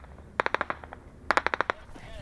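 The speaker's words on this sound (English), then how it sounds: "the rear vehicle comes under fire" Gunfire aimed at armoured personnel carriers sounds as two quick bursts of sharp cracks, around half a dozen shots each, fairly faint and separated by a brief pause.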